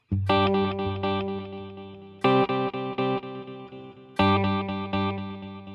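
Guitar chords through a Fractal AX8 multi-delay ring out three times, each followed by a rapid train of echoing repeats that decay, with a bright, layered delay effect.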